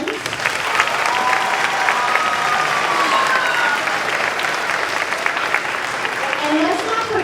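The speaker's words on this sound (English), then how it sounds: "So big round of applause for our custodians." An audience at an elementary school spring concert gives a warm round of applause, steady dense clapping throughout with a few scattered whoops and voices mixed in.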